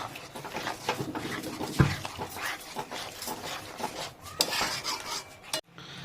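A spoon stirs a cauliflower roast with peas and a splash of water in a pan, giving irregular scraping and clinking strokes with a few sharper knocks, close and fairly loud.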